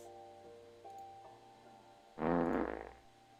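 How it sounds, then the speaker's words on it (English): A loud, low, raspy fart noise in a game, lasting about three quarters of a second, breaks in after a quiet stretch of steady tones. "we're gonna get a free fart noise"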